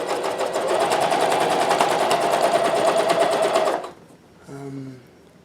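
A Janome CoverPro 1000CPX coverstitch machine runs steadily and loudly for about four seconds with a fast, even rhythm, then stops abruptly, leaving a brief low hum.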